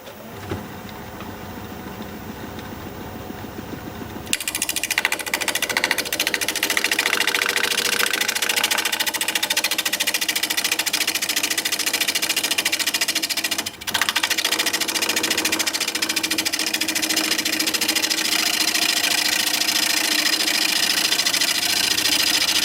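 Wood lathe running loudly with a steady mechanical drone while a cutting tool is pushed into the spinning wood, the pitch roughening and thickening after a few seconds and continuing without pause.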